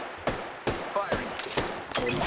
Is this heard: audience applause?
no